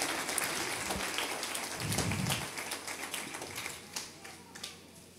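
Applause at a family inauguration and thanksgiving ceremony in Xecruz, Joyabaj, heard as quiet, dense clapping that swells briefly and then thins into scattered taps.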